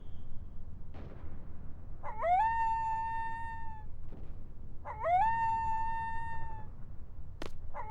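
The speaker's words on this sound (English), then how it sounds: "Oh, poor dog." A dog in the Final Fantasy VIII video game lets out two drawn-out whimpering howls, each rising then holding a long tone, over quiet game ambience with a sharp whip-like crack near the end.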